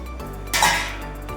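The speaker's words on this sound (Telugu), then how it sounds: "ఇది బాగా ఇలా కలుపుకోవాలండి" A utensil scrapes and knocks against a bowl while quail is mixed with salt, curd, oil, chili powder and garam masala, one close clinking scrape over a quiet low hum.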